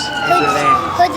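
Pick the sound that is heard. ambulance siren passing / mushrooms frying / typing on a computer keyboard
ambulance siren passing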